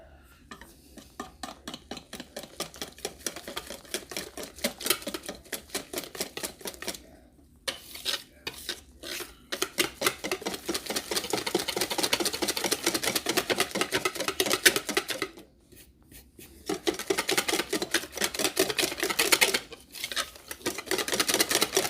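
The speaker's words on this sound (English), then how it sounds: "Just mix it together." Pancake batter being mixed in a bowl with a spoon or whisk, giving steady rapid scraping and clinking strokes with a few short pauses between bursts.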